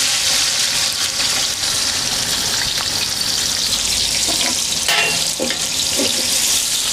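A kilogram of onions frying in a litre of oil for chicken pulao biryani, giving a loud, steady, dense sizzle with occasional stirring clinks throughout.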